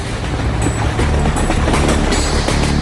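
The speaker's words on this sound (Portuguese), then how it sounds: "Trens passam por todo o campo." A train rumbles past at close range, a steady low roar of heavy wheels on rails without voices.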